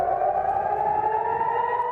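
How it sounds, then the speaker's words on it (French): An air raid warning siren wails over Jerusalem and Tel Aviv during the Middle East conflict, a single sustained, slowly wavering tone that is loud and continuous with no voices over it. "Des sirènes d'alerte ont à nouveau retenti à Jérusalem et Tel Aviv cet après-midi"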